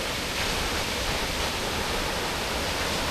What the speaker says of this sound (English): interesting waterfall.